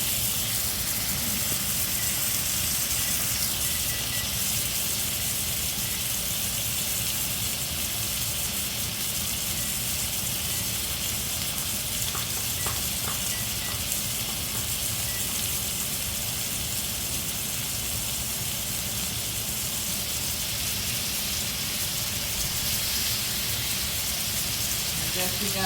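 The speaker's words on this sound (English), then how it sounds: "this is called searing. So you want to make sure your pan is nice and hot." Lamb chops searing in a hot pan give a steady, broad sizzling hiss that holds evenly throughout, with faint talk underneath.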